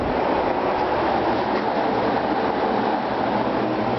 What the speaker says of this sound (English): Let me turn this fan off